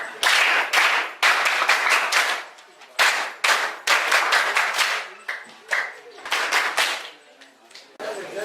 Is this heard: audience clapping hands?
yes